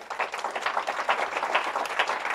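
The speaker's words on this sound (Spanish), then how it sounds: "fuerte aplauso para nuestra banda de adoración" A church congregation applauding its worship band after a song, dense steady clapping from many hands filling the space, with no talk over it.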